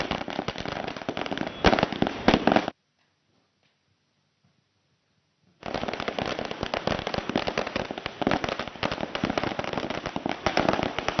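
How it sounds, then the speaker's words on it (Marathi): Firecrackers burst at a street celebration in Pune: a dense, loud stream of rapid crackling pops, cut by a few seconds of near silence, then resuming just as thick. "पुण्यामध्ये देखील महाराष्ट्र नवनिर्माण सेनेकडून आता फटाके फोडून जल्लोषाला सुरुवात करण्यात आली"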